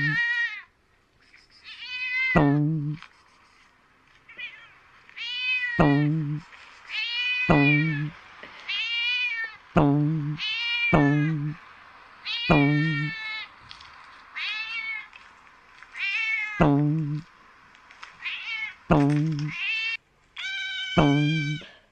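A cat meows repeatedly indoors, about a dozen loud, clear, drawn-out calls spaced every second or two with short pauses between, with no one speaking.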